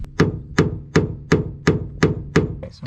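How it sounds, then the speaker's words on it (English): Seven sharp metallic hammer strikes ring out at an even pace, a screw used as a punch on a Mercedes Sprinter van, each a crisp close tap with a brief ringing decay. "I'm just going to use a screw and a hammer."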